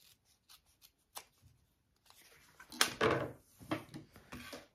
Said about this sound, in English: I can go ahead and trim these tabs even as well